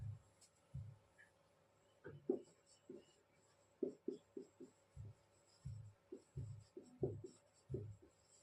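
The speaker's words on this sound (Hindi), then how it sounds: "यहाँ पर हम एक सेंटेंस लिखते हैं" A sentence being written by hand during a grammar lesson: soft, intermittent scratchy strokes in short bursts, quiet and close, with no talking.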